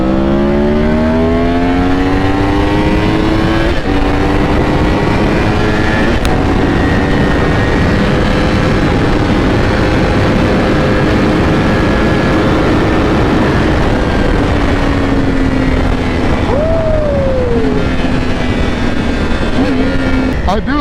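A Yamaha R1 superbike with a Superbike Unlimited ECU flash accelerates hard in a roll race from 60, its engine note climbing through several gear shifts and drops, loud and close with wind rush.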